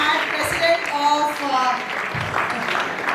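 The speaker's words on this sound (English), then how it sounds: "please clap for all the startups" The audience at an international startup competition claps for the startups, a scattered, moderate patter running under a speaker's talk.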